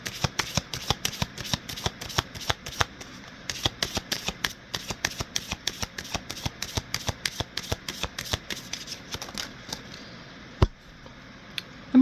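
Oracle cards are shuffled close up in a rapid run of crisp, evenly spaced flicks that keeps going for several seconds, then slows into a few scattered taps as a card is drawn.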